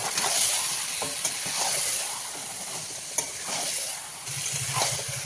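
Mutton fries with ground spices and coriander powder in oil, giving a moderate, continuous hiss and sizzle with occasional stirring scrapes and small pops. No one speaks.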